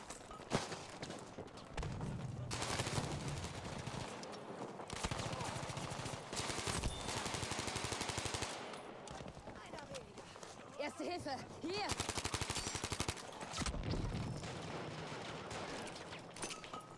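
A medium machine gun firing in the game Battlefield 5, with long rapid bursts of gunfire and other battle noise across the whole stretch while a person talks over it.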